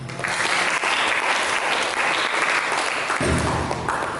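A church congregation bursts into applause during a sermon, dense and loud clapping from many hands that holds steady for a few seconds.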